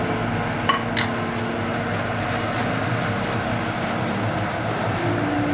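Cumin, Kashmiri chilli, red chilli and turmeric powders fry in oil for a tengra fish curry, a loud, steady close-up sizzle with a few faint clicks of a spoon stirring the pan.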